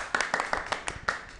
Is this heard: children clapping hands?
yes